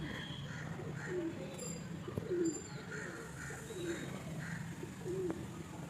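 Breeding pigeons in Howrah Sankrail give soft, repeated coos at a steady, unhurried rhythm, faint and somewhat distant over a low background hum.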